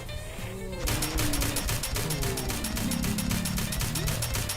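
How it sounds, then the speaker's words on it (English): Rapid automatic gunfire from the video game Fallout 4 rattles in a dense, steady burst of evenly spaced shots, loud and close, with a softer lead-in before the firing starts. "What are you shooting at?"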